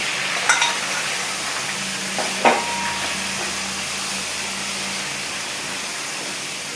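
Garlic chutney sizzling in hot tempering oil with mustard seeds and cumin, a steady close hiss with a couple of sharp clatters of a spoon early on.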